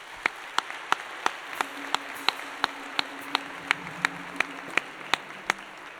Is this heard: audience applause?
yes